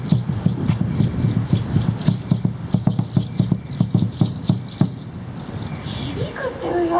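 Japanese drum with a cowhide head that still has its hair on, struck in a quick, steady run of dull, muffled, close thumps for several seconds before the beating stops.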